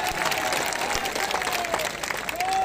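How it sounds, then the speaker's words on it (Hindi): Crowd applause at an outdoor BJP joining rally, steady dense clapping throughout, with a voice briefly heard over it. "तालियां बजाकर लॉकेट जी का स्वागत करें।"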